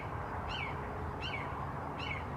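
Three short, sharp bird calls ring out at even intervals over a steady background hum.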